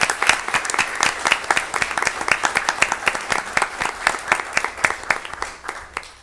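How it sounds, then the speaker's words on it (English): A crowd applauds steadily for several seconds, the clapping dense and even, then thinning slightly toward the end. "a round of applause"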